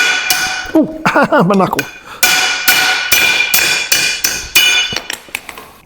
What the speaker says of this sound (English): I'm going to have to pound some used studs out of them 8 3/4 axles